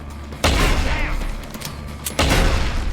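Two loud volleys of gunfire from the game Deus Ex: Human Revolution, each a sudden booming onset followed by sustained rattling shots and reverberant tail, close and dominant throughout.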